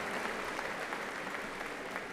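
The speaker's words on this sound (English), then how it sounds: "Let's give them another round of applause." An audience at a school district dinner event claps for a high school commercial music group, a steady, even wash of applause with no talking.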